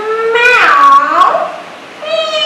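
A cat meows twice, a long drawn-out meow followed by a shorter one, close and clear.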